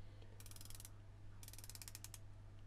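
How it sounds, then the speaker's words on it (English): The bezel of a Zodiac Super Sea Wolf Compression ZO9286 watch is turned by hand, giving two quick bursts of light, plasticky ratcheting clicks that sound close and faint over a low background hum. "I complained about the bezel sounding and feeling a bit plasticky."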